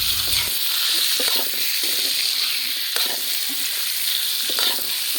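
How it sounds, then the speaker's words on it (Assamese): Pork sizzles loudly in a pan with onion and spices, the fat rendering out in a dense, continuous crackle, broken by repeated scraping stirs of a utensil against the pan, close up and with no talking. "এতিয়া মই ইয়াত মাংসখিনি দি দিছোঁ আৰু মাংসখিনি ভাজি মাংসৰ পৰা তেল উলিয়াই ল'ম"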